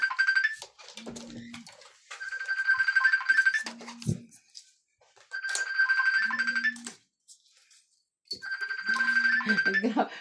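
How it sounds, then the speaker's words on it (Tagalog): Several cellphones go off with repeated bright notification ringtones from a group chat during a Tongits card game indoors, chiming in bursts with short gaps and overlapping tones. "Grabing group chat yan. Daming cellphone na tunog ah."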